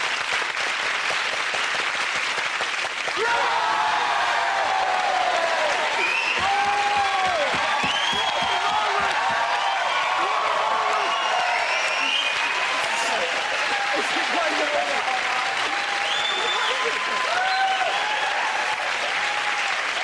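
Sustained studio audience applause with some cheering at a TV comedy panel show fills the whole stretch, steady and loud after a brief quieter opening.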